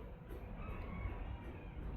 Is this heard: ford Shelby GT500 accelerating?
no